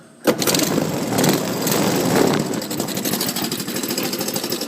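Old outdoor trike engine, running without its airbox, cranking and catching abruptly, then settling into a loud, rough, uneven idle with a rapid chugging rhythm.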